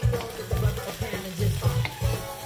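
Sausage sizzles and spatters in a pan alongside polenta, a close, lively fry broken by rhythmic stirring or scraping strokes roughly every half second.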